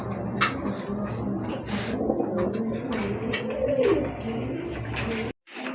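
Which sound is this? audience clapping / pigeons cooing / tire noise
pigeons cooing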